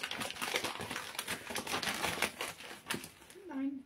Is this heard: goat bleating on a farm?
no